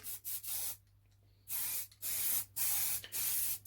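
Aerosol plastic primer sprayed in light coats onto VW T4 headlining: several close, sharp hissing bursts separated by short pauses, with a faint low hum underneath and no talking.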